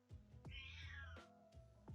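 Several short meows from a house cat close by, rising and falling calls spaced across two seconds with a few quieter sounds between, no talking over them.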